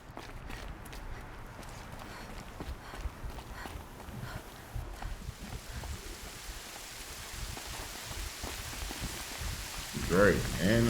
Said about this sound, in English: Great, and it's raining.